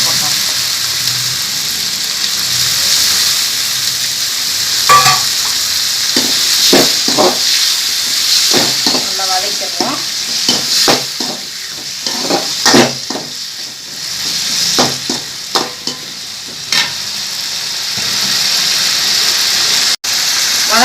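Tomato masala sautéing for a crab gravy, a continuous bright hiss of frying under frequent scraping and stirring strokes, close and fairly loud, easing off toward the end.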